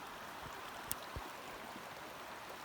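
A spring spilling like a small waterfall into a river along a hiking loop, heard as a faint, steady rush of flowing water with a couple of soft splashes and knocks.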